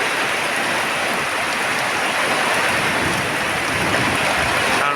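Rain pours down steadily on a rainy, windy day, a dense even hiss of falling water that stays loud and constant throughout, with no voices.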